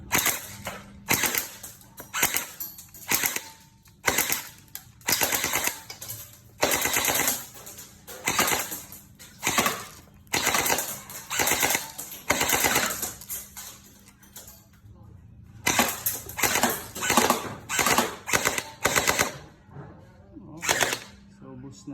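An AUG battery-type pellet gun fires repeatedly in short rattling bursts, sharp and close, broken by brief pauses, with people talking between and over the shots.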